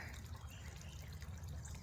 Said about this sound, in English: it is a waterfall. Even though it may have a little bit of water